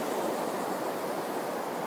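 Steady broadband wash of ocean surf at the seaside, a continuous soft roar with no distinct breaking crests, alone and without voices.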